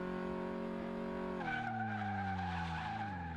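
A car in the driving game Car Mechanic Simulator brakes hard: a steady, droning engine tone drops in pitch as the car slows, with a hissing tire skid underneath and no voices.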